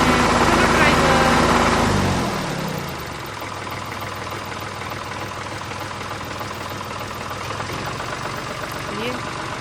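A mini tractor engine runs loud at first, then drops within a couple of seconds to a steady, even idle chug that carries on to the end, with a voice speaking over it.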